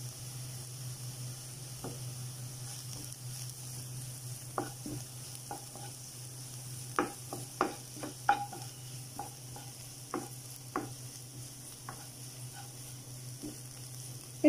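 Onions and green chillies frying in a pan for broken wheat upma, a steady low hiss with scattered sharp clicks and scrapes of stirring, moderately close and fairly quiet, with no talking.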